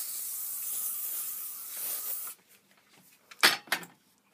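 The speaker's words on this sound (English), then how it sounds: "So the next step is just to put a little hairspray up in it." Hairspray is sprayed onto hair in a bathroom as one long, close aerosol hiss lasting about two seconds, followed by a couple of short soft rustles and taps.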